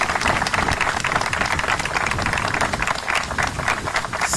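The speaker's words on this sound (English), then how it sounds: "Let's give this gentleman a round of applause." A large audience at a Mount Mercy University football program announment gives a round of applause to a gentleman, dense steady clapping that fills the room evenly with no voices on top.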